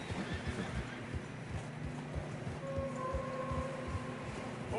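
Video game horses whinny and snort amid steady hoof plodding through fresh snow, a few drawn-out neighs rising over a continuous low rumble of movement.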